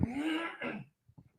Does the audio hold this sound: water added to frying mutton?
no